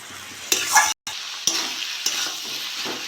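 Snake gourd with salt and turmeric sizzles steadily in a pan while a spoon stirs it in a few distinct scraping strokes, close and clear, with a brief dropout to silence partway through.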